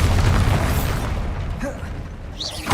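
A spell explosion bursts in Hogwarts Legacy, a loud booming blast that fills the opening second and then decays into a rumbling tail, with a brief whooshing flourish near the end.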